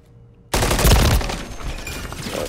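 Gunfire from a weapon in Call of Duty MW3 multiplayer, a loud burst of rapid automatic shots kicking in suddenly after a quiet moment and continuing with echoing rattle, no talking.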